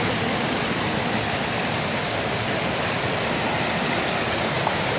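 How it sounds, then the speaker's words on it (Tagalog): Powerful rushing water roars continuously and loudly at close range, a dense unbroken wash of noise with no pauses or voices. "Kasi po, ang lakas ng tubig."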